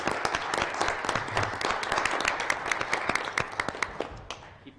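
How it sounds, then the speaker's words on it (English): Applause from a small group at a council meeting, many hands clapping in a dense, steady patter throughout that thins slightly near the end. "I just want to give you all a quick round of applause."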